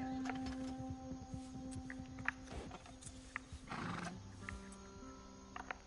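Video game horses in Red Dead Redemption 2 whinny and snort amid scattered hoof clops, with a steady tonal hum running underneath; calls are moderately loud and fairly close.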